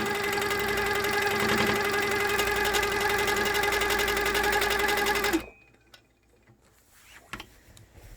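A sit-down midarm sewing machine runs steadily for about five seconds while cross-hatch stitching a nine-patch quilt along rulers, with a loud, even mechanical hum. It stops abruptly, leaving near silence broken by a few small handling clicks.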